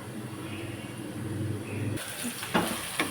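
Sliced onions cooking in a pan for chicken gravy, giving a soft steady sizzle and hiss that is low and close, followed by a couple of stirring scrapes near the end.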